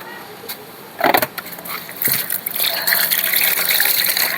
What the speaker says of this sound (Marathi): घासलाय आता, पाणी ओततो थोडं